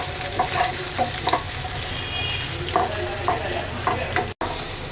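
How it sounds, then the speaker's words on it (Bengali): Green chilies and onion fry in a pan with a steady sizzle, broken by several sharp scraping stirs and a brief dropout near the end. "কাঁচামরিচ আর পেঁয়াজটাকে হালকা ভেজে নেব।"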